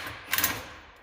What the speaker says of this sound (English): So now I got the drills, or the gun set to tighten